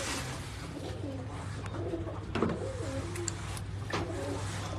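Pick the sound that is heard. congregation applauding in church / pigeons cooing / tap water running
pigeons cooing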